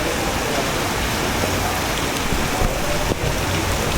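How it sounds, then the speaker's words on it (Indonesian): Heavy rain pours steadily in the Dominican Republic, a dense, continuous loud hiss of downpour with no pauses and no voices. "Hujan deras sekali."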